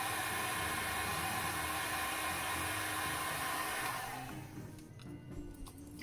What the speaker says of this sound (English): we're going to use the heat gun just to open them up a little bit and seal in all the details